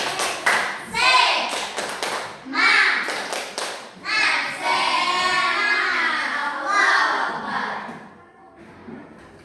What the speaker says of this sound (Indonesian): Sekarang tepuk semangat.